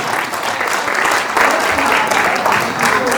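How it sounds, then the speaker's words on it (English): A closing-ceremony audience applauds its performers in a steady, dense wash of clapping that holds for the whole stretch without a break. "So I would like to ask everyone to give all our performers a huge round of applause"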